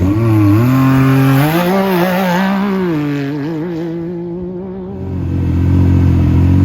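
Several UTVs, including a Can-Am, rev their engines at a desert race starting line in Las Vegas, loud and continuous, with pitch rising and falling as throttles are blipped, some held low and others revved hard.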